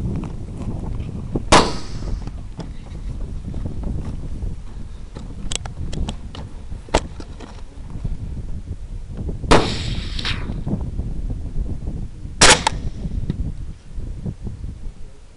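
Rifle gunshots during a hog hunt in open country near a hay bale: three loud, sharp cracks spread several seconds apart, with a few fainter pops and wind rustle between them, and no talking.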